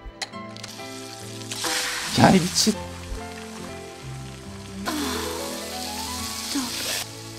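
A comic sizzling sound effect from a Top Gun parody film crackles in bursts over a musical backdrop, and a voice briefly speaks over it.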